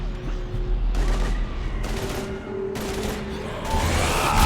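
Sustained gunfire from a Mass Effect 3 battle on Mars with husks attacking, dense bursts of shots layered over a low rumble, loud and continuous throughout with a brief voice in the mix.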